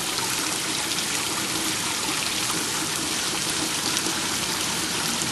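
Garden gnome fountain spraying bubbles of water into the air while fogging, a continuous, steady hiss of splashing and trickling water, close and even in level with no pauses.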